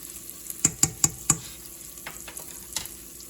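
A spoon stirs sugar into browning, emulsified fat sizzling in a pan for deep-dish pizza, with four sharp scraping strokes close together early on, then softer stirring over a quiet steady sizzle.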